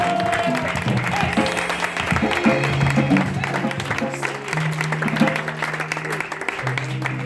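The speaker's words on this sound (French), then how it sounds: "Acclamez." A church congregation claps and cheers together at a French-language sermon, steady sustained applause filling the room with some voices and tonal sounds mixed through it.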